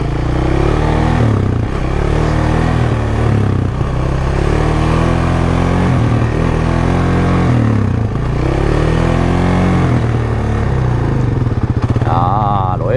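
A quad bike's engine revs hard and repeatedly during wheelie riding, loud close surges rising and falling in pitch in several cycles with a steady mechanical clatter underneath.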